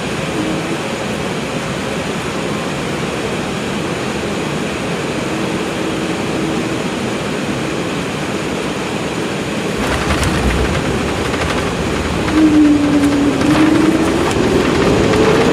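Airliner landing in Beijing, heard from inside the cabin as a steady loud engine and airflow roar that grows rougher and more turbulent near touchdown, with a rising whine toward the end.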